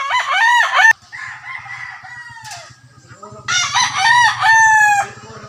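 A rooster crows loudly nearby, one long call followed by another after a pause, with clucking and a low rumbling engine underneath.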